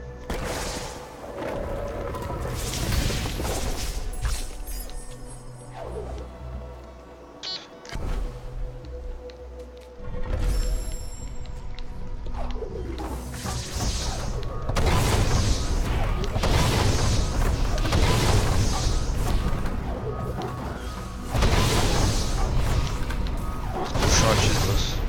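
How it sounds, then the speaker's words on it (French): Flame explosions go off in Ori and the Blind Forest, several booming bursts over game sound effects, with a voice talking at times. "Quand on a l'explosion là de la flamme attisée, ça passe."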